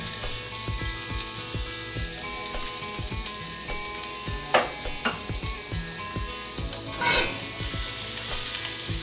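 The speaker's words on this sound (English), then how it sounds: "So we have 2 tablespoons of olive oil, nice and hot in our pan. And to that we're going to add 4 cloves of garlic." Four garlic cloves fry in two tablespoons of hot olive oil in a pan, a loud, continuous crackling sizzle with sharper bursts of spattering and stirring partway through.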